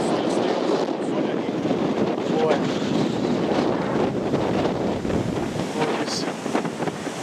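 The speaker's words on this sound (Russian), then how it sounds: "Безумствует море Средиземное" Rough Mediterranean Sea off Gozo, Malta at sunset, with waves surging and breaking under strong, steady wind buffeting the microphone, a continuous loud roar throughout.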